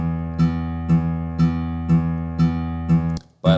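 Electric guitar chugs written from sheet music play back as a steady run of seven evenly spaced, palm-muted low notes, loud and alone, ending with a brief scrape.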